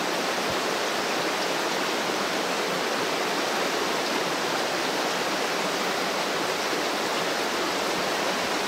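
A river flowing through woods at night, a steady broadband rush of water that stays loud and even throughout with no talk.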